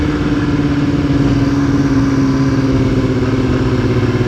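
A motorcycle engine drones steadily while riding, loud and close with a constant hum throughout and no talk.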